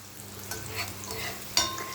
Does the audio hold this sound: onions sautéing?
yes